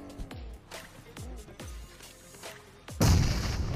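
Grenade and gunfire in a mobile shooter game on iPhone: several sharp booming shots in a row, then a loud sustained blast near the end.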